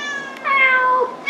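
A cat gives one clear, close meow, loud and drawn out with a falling pitch, in an otherwise quiet room.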